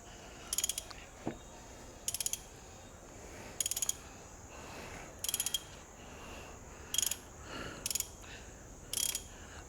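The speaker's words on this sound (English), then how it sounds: "I think I just have to continue with the ratchets to get better leverage" Ratchet wrench clicking in repeated short bursts while working a broken spark plug out of an engine, seven or so sharp ratcheting runs spaced about a second apart, close and clear with no talk.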